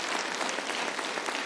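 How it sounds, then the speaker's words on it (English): Audience applause at a town meeting, dense steady clapping from a crowd filling the whole moment, no voices over it. "Now you can applaud."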